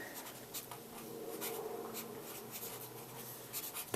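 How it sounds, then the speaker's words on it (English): A pen or marker writes out a math formula in quick scratching, squeaking strokes, close and fairly loud, with short pauses between strokes and no talking. "let's write down what the point slope formula is"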